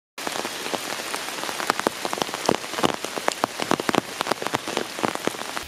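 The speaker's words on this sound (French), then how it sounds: "il pleut voilà. tout autant dans la forêt que dehors en fait." Steady autumn rain falls through a forest, a dense, even patter on leaves and ground with sharper individual drops striking nearby, continuing without pause and with no voices.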